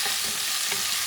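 Pumpkin pieces stirred into a simmering bison stew, with a loud continuous bubbling sizzle and soft scraping of a spoon through the pot, close and without voices.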